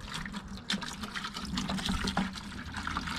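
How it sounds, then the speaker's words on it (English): Water is poured steadily to rinse and refill a bait container outdoors by the water's edge, a continuous close splashing and gurgling fill with no talk. "Rinse this out. Give them some fresh water here."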